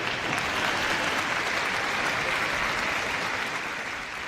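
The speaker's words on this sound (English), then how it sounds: "let's give Lollipop and Sue a big round of applause from Battersea Dogs and Cats Home." A large crowd applauds in a big arena at the Crufts dog show, a steady, dense wash of clapping that stays loud throughout and eases only slightly near the end.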